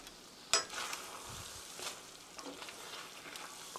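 Spaghetti with tomato sauce, sprinkled with ground black pepper, is stirred in a pan, a faint soft sizzle and quiet scraping with one sharp utensil tap near the start.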